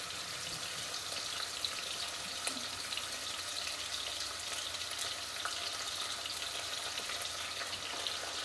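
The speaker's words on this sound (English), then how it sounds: "we're going to add our beef in here." Beef searing in a hot pot for a braised ragu gives a steady, even sizzle that runs close and loud the whole way, with no talking over it.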